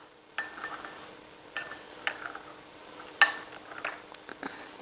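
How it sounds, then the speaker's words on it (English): A spoon stirs a lime dipping sauce in a bowl, producing a handful of sharp, close clinks and scrapes against the bowl at irregular intervals over quiet background. No one talks. "Mix it all up."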